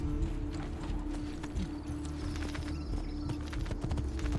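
In Assassin's Creed 2, a horse trots close behind the player with a steady clip-clop rhythm over dense game ambience, and no one speaks.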